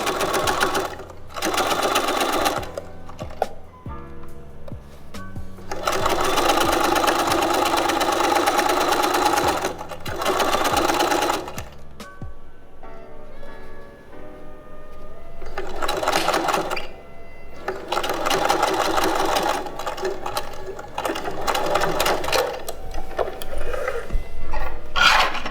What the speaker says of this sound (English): We are gonna backstitch.